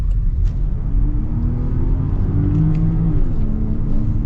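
A 2025 Range Rover plug-in hybrid pulls away under acceleration, a low rumbling engine note rising gradually in pitch from close inside the cabin.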